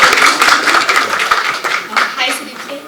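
A crowd applauds at a Bigg Boss Season 11 press meet, a dense burst of clapping that continues across the moment while a voice speaks over it.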